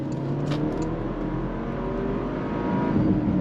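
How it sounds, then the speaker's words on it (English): A 2023 Porsche Macan T, its four-cylinder turbo paired with a 7-speed PDK, pulling hard under throttle: a steady, loud engine drone heard from inside the car. "Nice smooth shifts from the 7-speed PDK. Really allows the 4-cylinder turbo to do what it needs to."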